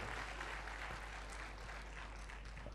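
An audience at a 'Stand With Her' campaign event in Telangana applauds. The clapping is faint and distant, a steady wash of sound that holds evenly throughout.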